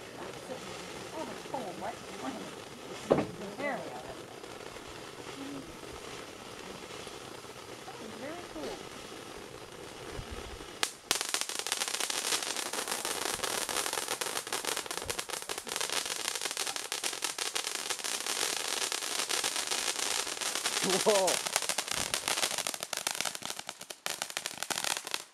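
Fourth of July fireworks at a party build into a grand finale, with scattered pops and whistles giving way to a dense, continuous crackling barrage, while people talk and react throughout.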